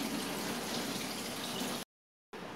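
Cold tap water runs steadily over food in a colander, a continuous close rushing splash that cuts off abruptly near the end and then resumes briefly.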